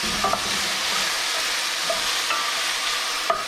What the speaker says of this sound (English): I've got the heat on my stir fry here on a low